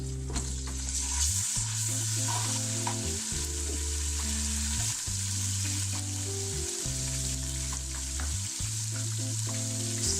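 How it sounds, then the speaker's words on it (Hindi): Steady sizzling of garlic paste frying with onions in hot oil, with intermittent stirring and scraping sounds, close by and continuous. "इसमें मैं अब लहसुन का पेस्ट डाल रही हूँ और इसको हम मिक्स कर देंगे"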